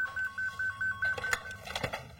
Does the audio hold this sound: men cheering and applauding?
no